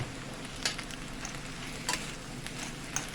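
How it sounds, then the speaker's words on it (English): Dandelion greens being stirred into a sizzling vegan West African rice pot with tomato and spring onions, a soft steady frying hiss broken by a few sharp clicks of the spoon, close and quiet, no talking. "I'll put in a couple of, you know, heaping cook spoons of the dandelion greens and get them stirred in there real good."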